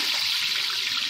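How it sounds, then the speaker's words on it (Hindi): Chopped onions hit hot smoking oil and sizzle loudly in a steady hiss, up close and alone, for biryani. "तो गाइस तेल गरम हो चुकी है, अब इसके अंदर जो है प्याज को डाल देता हूँ।"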